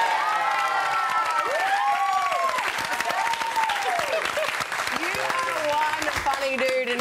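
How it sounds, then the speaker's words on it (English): A studio audience on a TV talk show gives continuous loud applause mixed with cheers and whoops, with voices talking and calling out over the clapping. "But let's give him a round of applause."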